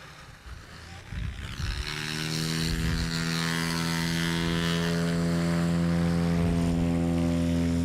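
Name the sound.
Cessna 182 propeller airplane at an air show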